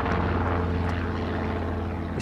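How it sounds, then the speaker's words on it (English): A helicopter engine and rotor run steadily at close range, a loud, dense, continuous droning roar with a low rhythmic thrum and no break. "While Mick's mucking around in the helicopter"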